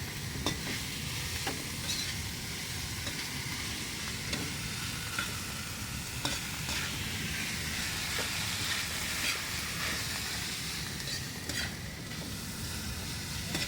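Sliced banana heart sautés in a pan for adobo, giving a continuous close sizzle and hiss with irregular stirring scrapes and clinks throughout.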